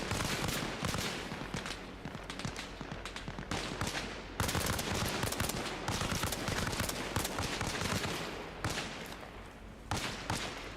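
Dense, continuous rifle and machine-gun fire from the Arma Reforger military game, sustained volleys and overlapping bursts filling the whole stretch at steady loudness, with no pauses.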